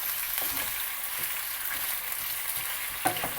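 Chicken karahi cooking over high heat, a continuous hissing sizzle with soft intermittent stirring scrapes and one sharper utensil knock near the end, moderately quiet and close with no voices.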